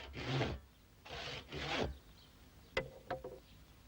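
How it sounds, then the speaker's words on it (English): Three long rasping strokes of a saw cutting through wood, close by, followed by a few sharp knocks and taps. "he starts cutting it in half with a saw"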